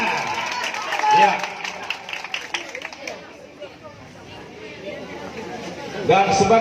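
Scattered applause rises and fades at a traditional Nias silat demonstration, mixed with crowd chatter and a voice over a loudspeaker, with a brief burst of clapping near the end.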